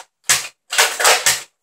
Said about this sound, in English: I was using a zombie strike, long shot CS6